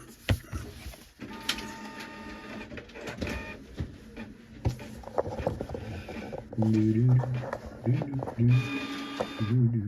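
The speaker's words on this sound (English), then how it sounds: "it's printing out now" A printer feeds and prints a page beside a live trading card case break, with whirring, clicking mechanical passes and a rising motor tone, heard close while people talk over it.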